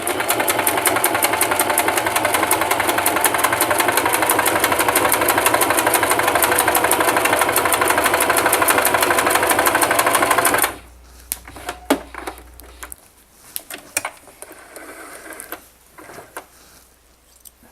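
Singer 3232 sewing machine stitching fabric with a long stitch, a fast steady mechanical chatter for about ten seconds, close and loud, then it stops, leaving scattered handling clicks and thumps.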